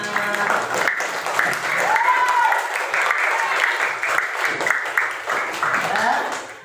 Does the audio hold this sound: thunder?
no